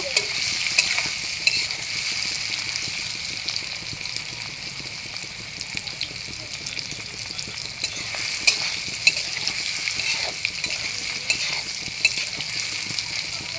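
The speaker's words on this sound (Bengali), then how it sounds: "এইভাবে আমি ভেজে নিয়েছি পনিরগুলো এবার আমি তুলে নেব" Paneer pieces fry in oil with a steady hiss and sizzle, and faint scrapes and clicks of stirring turn up now and then, all close with no talking.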